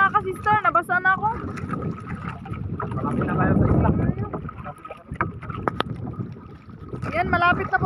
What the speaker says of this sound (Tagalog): palakas ang palakas yung amihan